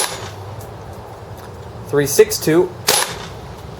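A WE G36C gas blowback airsoft rifle running on propane fires several quick sharp shots over a chronograph, heard as clustered cracks with mechanical clatter. A voice reads out numbers between the shots.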